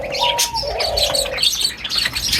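Java sparrows in a breeding setup chirp in quick, bright bursts close by, with a steady tonal call running underneath and a few soft coo-like notes mixed in.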